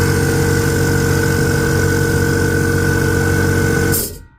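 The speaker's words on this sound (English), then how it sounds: "It's a Parkside PKO24B2, so it's a 24 litre compressor and not a silent one at that." A Parkside PKO24B2 24-litre air compressor, a loud non-silent model, runs with a steady heavy motor drone and pump rattle, constant and close, then cuts off abruptly near the end.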